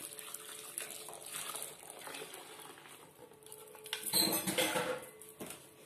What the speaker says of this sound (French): On va rincer aussi la cuillère.